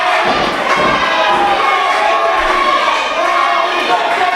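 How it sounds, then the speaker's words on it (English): A wrestling crowd at an ACPW match roars and cheers continuously, loud and dense, with voices calling out over the steady din. "The crowd coming behind Teddy Fine."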